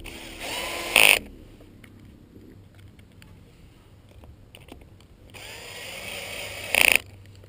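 A Mazzer Mini burr being screwed onto a KitchenAid Proline coffee grinder body, with two short, loud whirring bursts of a powered screwdriver at the start and end, and quiet handling noise between.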